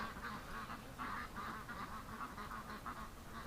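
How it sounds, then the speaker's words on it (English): Ducks on a freezing cold day, seen down below, quacking in a quick run of repeated calls at moderate distance against a noisy outdoor background. "Actually, I see a couple ducks down there."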